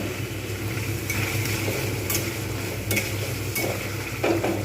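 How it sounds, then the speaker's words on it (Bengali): Spice paste sautéing in oil for a soybean curry: a steady close sizzle with intermittent scraping stirs of a spoon in the pan, several sharp strokes across the stretch, no voices. "বেশ কিছুক্ষণ ধরে আমি এখানে অপেক্ষা করব এবং খুব ভালোভাবে কষে নেব"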